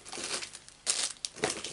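Double-sided tape being handled and applied to a buckled card during card-making, heard as close, soft crinkling and peeling rustles in a few bursts, with no talking.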